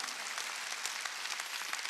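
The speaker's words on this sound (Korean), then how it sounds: "박수로 하나 할게요." Steady, dense applause from a congregation at a Korean church's Wednesday worship service, sustained clapping filling the room evenly with no talk over it.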